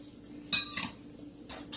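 Egg and flour mixed in a bowl with a utensil, giving two quick clinking scrapes close by followed by a later softer pair against a quiet room hum.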